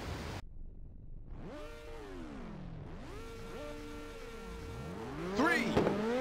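Engines of race cars rise in pitch and then shift up repeatedly as a Ridge Racer 2 arcade race starts on Seaside Route 765, fairly quiet, with several engine tones overlapping and a swell toward the end.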